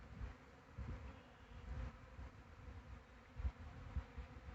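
A honeybee swarm hanging near a hive buzzes in a steady, low, droning hum with a few slightly louder swells, heard faintly from a short distance with no voices.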